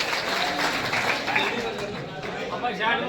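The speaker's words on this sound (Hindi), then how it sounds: "जोरदार तालियों के साथ स्वागत करें।" A crowd at an Aam Aadmi Party political event applauds as a chief guest is welcomed. The clapping is fairly quiet and mixed with crowd chatter and voices.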